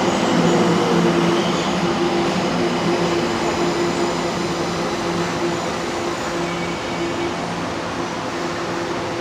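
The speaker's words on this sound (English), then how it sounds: "Let's hop the train, let's go." Steady interior rumble of a Tokyo train ride heading toward Ginza station, a continuous low drone with faint tonal hum lasting throughout, no talking.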